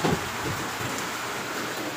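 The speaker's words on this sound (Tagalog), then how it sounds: "Hindi pa pala tapos yung ulan." Steady, dense rainfall after a flood hissing evenly across the whole moment, a continuous wash of drops on surfaces with no pauses.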